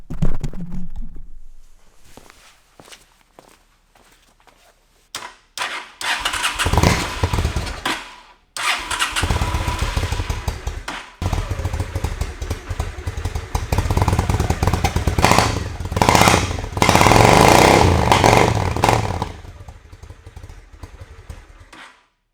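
Motorcycle engine that needs its carburetors cleaned being started indoors in a workshop, first a few cranking attempts, then a loud, rough, uneven running clatter with revving surges before it dies down.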